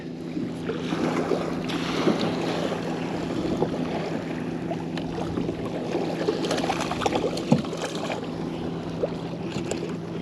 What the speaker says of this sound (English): Oh boy, waves coming in.